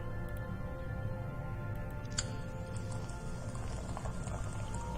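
Beer poured down a drain in the video game Morningstar: Descent to Deadrock: a steady liquid pour that runs continuously over a low, even game-ambience hum, with no talk.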